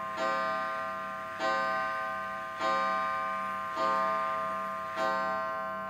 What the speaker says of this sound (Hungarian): Ez most az órám volt, aki ugye elütötte a 10 órát